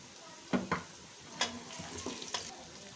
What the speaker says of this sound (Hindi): यहाँ पर जिंजर गार्लिक पेस्ट भी अच्छे से फ्राई हो चुका है